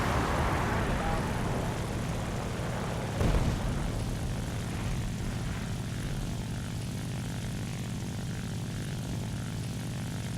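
A propeller fighter plane such as a P-51 flies in a World War II air-combat video game, its engine a continuous loud drone throughout with a brief swell near the middle.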